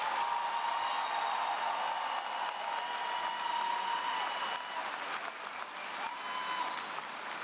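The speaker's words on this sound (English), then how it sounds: "Let's have one more round of applause for our 4 speakers tonight." Distant, steady applause from a large crowd at a high school graduation ceremony honoring the speakers, even and sustained, with a faint tonal hum running underneath.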